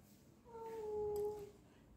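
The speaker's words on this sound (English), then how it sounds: "Sorry about the noise. This is my cat trying to gain some attention." A house cat lets out a single drawn-out, plaintive meow for attention, close and clear against a quiet indoor background, with no talk over it.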